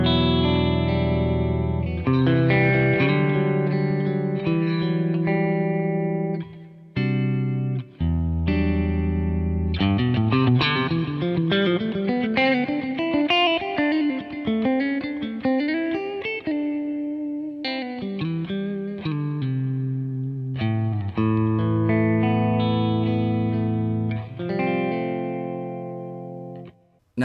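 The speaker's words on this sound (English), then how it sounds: "So I've captured the sound of my favorite amp into the Kemper." Electric guitar played through a Kemper profiling amp captured from a Matchless tube amp, loud and close with overdriven tone, sustained chords and melodic single-note runs rising and falling, brief pauses between phrases over about 27 seconds.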